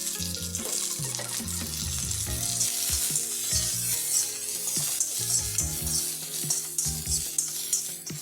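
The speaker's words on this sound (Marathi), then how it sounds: "हे थोडंसं भाजून घ्यायचं हे गाजर आहे थोडंसं तूप टाकले मी" Carrot and corn kernels roasting in a little ghee in a pan for a ragi soup, a continuous bright sizzle with frequent stirring scrapes and clatter, close and fairly loud, no talking.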